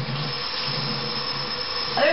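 Hot water runs steadily from a tap into a kitchen sink, a constant close rushing hiss with no other sounds over it.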